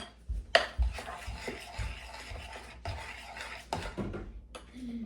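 Salted and peppered mayonnaise is stirred in a bowl, producing soft wet scraping and a series of utensil clinks and knocks against the dish, close by and fairly quiet, without speech.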